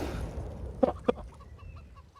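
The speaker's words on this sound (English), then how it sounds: "Chicken." A chicken on the Inferno map in Counter-Strike gives two short, sharp clucks close by, set against a quiet game background.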